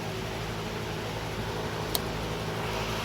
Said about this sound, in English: If you hear noise behind me, there's a fan blowing.